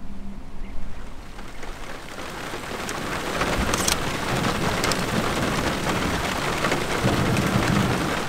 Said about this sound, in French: L'orage de la pointe sud a fini par s'activer